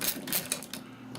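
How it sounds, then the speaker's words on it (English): A ratchet wrench cranks a screw tight while building a Matt Chapman Eagle 580 aircraft model, producing rapid, close mechanical clicking in quick bursts. "Once it catches, then you can crank it and ratchet it."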